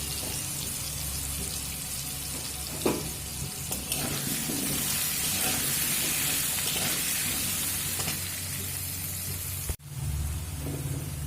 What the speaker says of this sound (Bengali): যে আলুগুলো কেটে রেখেছিলাম আলুগুলো ভেজে নেব